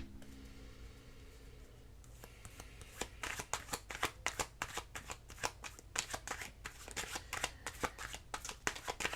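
Tarot cards being shuffled by hand, a run of rapid crisp riffling bursts repeating close up and fairly loud after a quiet opening, with no talking.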